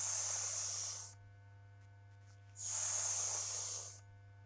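An IceBox 80W e-cigarette fires at 50 watts with the airflow fully open, two long, steady airy hisses of about a second each, separated by a short quiet pause, close and fairly soft over a low background hum.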